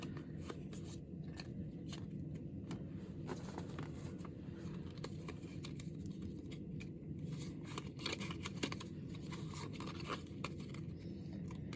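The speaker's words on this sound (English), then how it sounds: "you're going to want to shuffle these until you don't know like the order of those, and just shuffle each of these era piles" Stacks of Doomlings game cards are shuffled at close range on a table, giving continuous quiet riffling and rustling with soft flicks and scrapes throughout, no voices.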